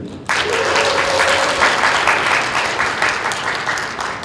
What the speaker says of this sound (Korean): 동지를 힘찬 박수로 환영해 주시면 고맙겠습니다